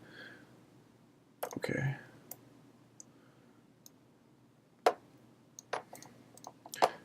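Mouse clicks in CAD software: a few sharp, close clicks spread unevenly over several seconds, single and in small pairs, with a person speaking briefly between them.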